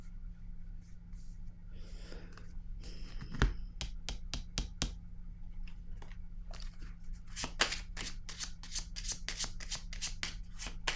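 Tarot cards being shuffled and dealt, a dense run of crisp, close riffling flicks and slaps that builds into a fast rapid burst toward the end, over a steady low hum.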